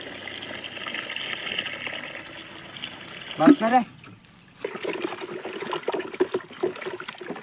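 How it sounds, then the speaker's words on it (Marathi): Water splashes and pours into a bucket, a brief gushing burst followed by softer trickling, with someone speaking nearby, as five litres are added for Bordeaux paste with copper sulphate. "दोन्हीमध्ये पाच पाच लिटर पाणी टाकायचे आहे"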